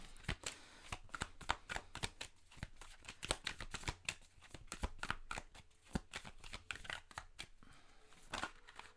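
Tarot cards being shuffled close up, a rapid irregular series of crisp riffling slaps and flicks, quiet and alone with no talking.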